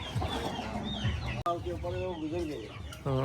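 Backyard village chickens in Penglipuran, Bali, cluck in loud, close bursts, with a series of rising calls midway and another sharp outburst at the end.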